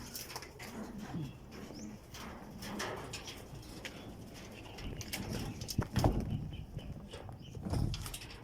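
Racing pigeons at a loft during a derby race coo softly and repeatedly, close by, with low throaty murmurs amid rustling, scattered knocks and wing flutters, and no voices.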